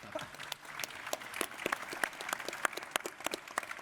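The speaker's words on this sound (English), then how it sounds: "can you give them a big round of applause, please?" A small audience at an industry panel on European batteries claps, scattered distinct hand claps at a moderate distance, fairly faint and sparse rather than a full roar.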